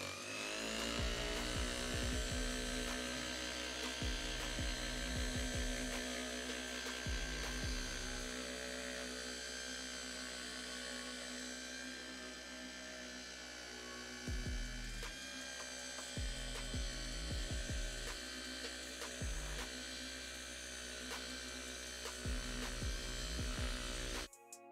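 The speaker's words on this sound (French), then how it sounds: "Là, on va procéder au polissage directement" Rotary polishing machine working over the paint of a BMW M3 E46, a steady mechanical whir running throughout with recurring low pulses as the pad is pressed and moved, close and fairly loud.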